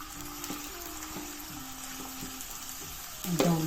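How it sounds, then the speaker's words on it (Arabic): Chopped onion frying in ordinary table oil, the base for lasagna, gives a steady close sizzle with light stirring, then a louder bubbling burst at the very end. "دابا غنبدا نشحر البصله ونشحر الكفته"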